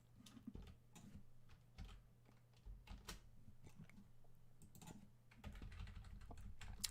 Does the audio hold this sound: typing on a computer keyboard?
yes